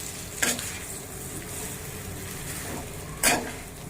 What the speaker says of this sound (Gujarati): વઘાર બધાને અડી જાય એવી રીતે આપણે મિક્સ કરી દઈશું